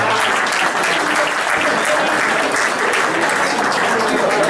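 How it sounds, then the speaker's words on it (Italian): Sustained audience applause at an Italian documentary film presentation, dense, steady and fairly loud throughout without a break. "farei un applauso alla Marina"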